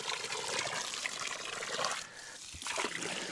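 Water trickles and splashes steadily from a garden hose outdoors, a continuous close liquid stream with a brief dip in flow near the end.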